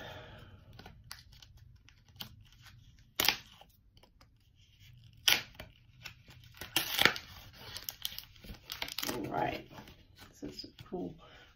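Pokemon Guardians Rising trading card packs being torn open, with sharp bursts of ripping and crinkling foil wrapper scattered among quieter handling noises, fairly close and moderately loud.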